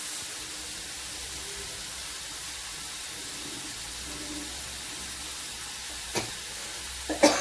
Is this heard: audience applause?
no